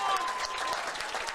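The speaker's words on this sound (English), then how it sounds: "the cheer is for the Dublin players coming over to the presentation area" A crowd claps and cheers at a Dublin vs Meath ladies minor football championship final as Dublin players come over to the presentation area; broad, steady applause continues throughout at moderate distance.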